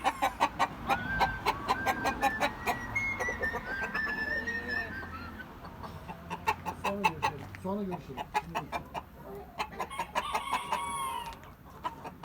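Chickens, including Sumatra chickens, clucking and squawking close by in a busy chorus in a coop, with a rooster's crow rising among the steady clucks and a voice murmuring underneath.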